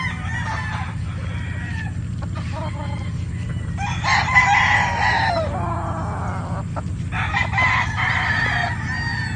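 A six-month-old Sweater x Gilmore two-way cross gamefowl rooster crows twice, loud and near, over a steady low background hum of a game farm.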